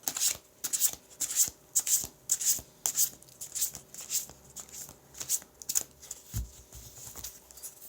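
Tarot cards being shuffled by hand for a card reading, a steady rhythmic riffle of papery flicks and slaps repeating about twice a second, close and fairly quiet, with no talk.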